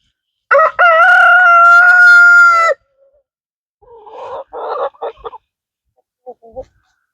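Backyard chickens, a rooster letting out one long loud crow up close, followed after a pause by several short clucks and squawks from the hens.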